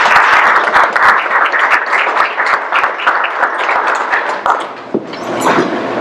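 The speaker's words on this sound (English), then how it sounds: "So please give him a round of applause." An audience at a graduate school lecture breaks into loud, sustained applause as a speaker is brought to the stage. Crisp individual claps sound throughout, easing slightly toward the end.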